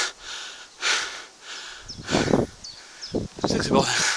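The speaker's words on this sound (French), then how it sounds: "comme vous l'entendez, ma petite respiration très légère." Light breathing of a hiker in the Apremont gorges of Fontainebleau, several audible breaths and sniffs close to the microphone, with rustling and faint birdsong around.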